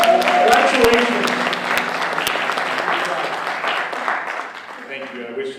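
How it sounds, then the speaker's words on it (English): Applause from an awards-show audience at a film and music festival, loud clapping with a few sharp claps up front while a voice speaks over the start, then slowly thinning and fading. "Getting a big round of applause."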